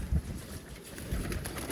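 Pigeons coo in a loft, soft low throaty coos close by over a dense hum of background noise, brief and continuous with no talk.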